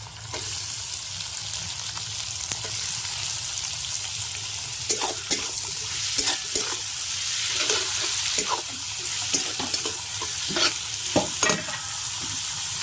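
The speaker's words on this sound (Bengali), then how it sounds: "এবার কাঁচা টমেটো গুলোও দিয়ে দিচ্ছি।" Potatoes fry in a pan with slit green chillies and green tomatoes, giving a soft, continuous sizzle broken by sharp stirring scrapes and clinks in the second half.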